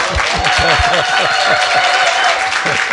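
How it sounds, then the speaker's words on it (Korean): An audience at a church's 15th-anniversary public broadcast applauds in continuous loud clapping, with a voice speaking briefly over it near the start. "다시 한번 박수."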